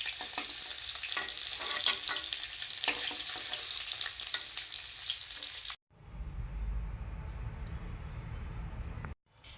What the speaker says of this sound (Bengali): উল্টে পাল্টে লাল মুচমুচে করে ভোলা মাছ ভেজে নিতে হবে